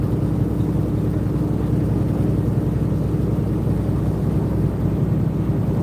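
Steady low engine rumble inside the cab of a semi truck driving from North Carolina, a constant droning hum with a faint shaky rattle, loud and unbroken, with no talking.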